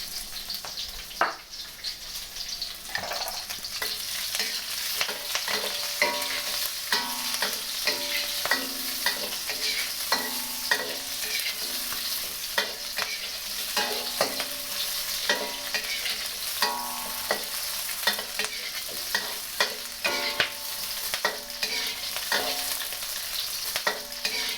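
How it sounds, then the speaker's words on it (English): Onions stir-frying in a tablespoon of oil in a smoking-hot wok for beef lo mein: a steady close sizzle broken by frequent spatula scrapes and clacks against the metal, with no talking. "when it does, I'm going to add a tablespoon of oil. First thing that goes in, onions."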